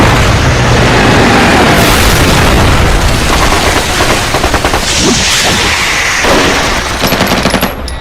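Loud bursts of machine-gun fire and booming explosions in a movie battle scene, rapid repeated volleys dense and close, continuous throughout.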